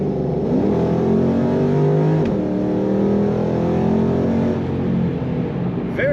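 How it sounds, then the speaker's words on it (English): A 2006 Ford Mustang GT Premium coupe with modifications accelerates hard on a road, its engine droning loud and steady from inside the car, with pitch sweeping upward through the gears and no talking. "Very nice acceleration in this Mustang."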